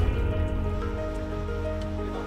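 Water drips and flows inside a cave on Simeulue Island after a morning rainstorm, a continuous wet rushing with scattered drips and a low rumble, steady and fairly close.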